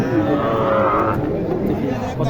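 Crossbred cattle moo loudly and close at the Mataji cattle market in Naogaon, a long drawn-out low call over a busy background of crowd chatter.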